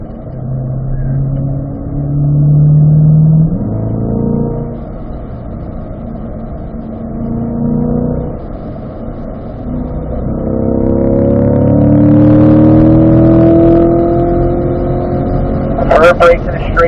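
A car at full throttle on the Spring Mountain race track during a performance driving school session, its engine note climbing steadily as it accelerates, heard from inside under an instructor's continuous talk.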